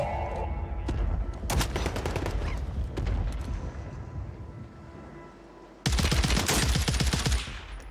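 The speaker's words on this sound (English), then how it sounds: "This gun's crazy, bro." Rapid bursts of gunfire from a gun in Warzone 3, loud and close, with a sustained volley early on, a brief lull, then another dense, intense burst near the end; no talking.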